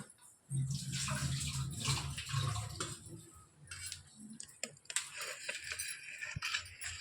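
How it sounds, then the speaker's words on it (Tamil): Water poured into a bowl of vada batter, a steady splashing pour followed by wet squelchy mixing and scraping, close and quiet. "தண்ணி ஊற்றி மிக்ஸ் பண்ணிக்கிறோமா"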